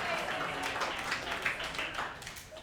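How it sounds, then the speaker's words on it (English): A crowd at a toast gathering applauds a speaker with steady, dense clapping that holds evenly throughout, moderately loud and slightly distant. "Let's give Clayton a big, warm round of applause,"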